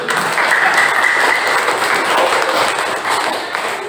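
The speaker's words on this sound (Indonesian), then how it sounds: "Tepuk tangan dulu" A classroom audience gives steady applause, many hands clapping in a dense, continuous wash, close and loud throughout.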